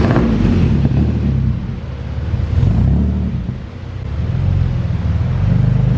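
A twin-turbo Nissan 370Z on a dyno, a loud, close engine rumble that swells and dips in waves, with no talk.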